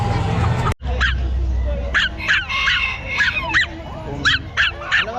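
A Pomeranian puppy at an outdoor pet market, yipping in short high-pitched barks repeated several times close by, with people talking and market noise behind it.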